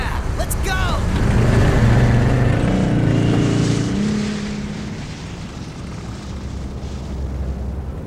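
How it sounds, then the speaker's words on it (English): Snowmobile engine in the video game Resident Evil Code Veronica X, a loud low rumbling drone that swells over the first four seconds, then settles into a steady quieter hum, with voices talking over it. "There's a snowmobile over there!"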